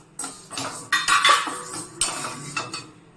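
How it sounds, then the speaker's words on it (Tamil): Barley and sago pearls are stirred while dry-roasting in a pan, giving repeated close scraping and rattling strokes of a metal spoon against the pan in an irregular rhythm. "பார்லி ஜவ்வரிசி ரெண்டையுமே போட்டுடலாம்."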